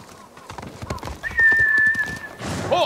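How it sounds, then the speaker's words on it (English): A horse in the samurai video game Ghost of Tsushima clip-clops at a steady gallop, then lets out a loud, close whinny over the hoofbeats, with game music and ambience behind. "Horse!"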